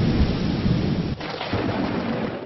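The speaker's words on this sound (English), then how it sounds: "The thunder sounded like explosions as a storm bared down just at the tail end of the evening rush hour." Heavy thunder rumbles loudly and continuously through a storm dumping torrential rain, the downpour hissing throughout with a brief dip midway before the roar resumes.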